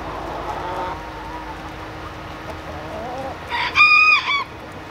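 A bantam hen and other chickens cluck softly in a farmyard, followed near the end by a loud, close burst of squawking calls.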